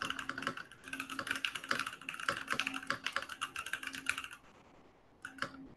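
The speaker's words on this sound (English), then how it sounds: "Sorry, I was typing." Quick irregular clicks of typing on a computer keyboard sound close by in bursts, with a brief pause near the end before a few final keystrokes.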